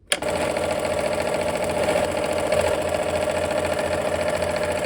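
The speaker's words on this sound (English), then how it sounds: "I like to sew with the larger unit on the bottom, and it eases the fabric in" A sewing machine runs steadily and loudly for several seconds, joining quilt block fabric pieces, half square triangle units fed with the larger piece on the bottom, as a continuous whirring drone with no talk.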